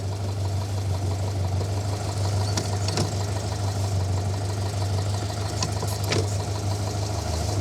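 Alfa Romeo car engine running in gear, a steady low mechanical hum with a faint rhythmic knock and occasional light clicks, close and continuous with no talk.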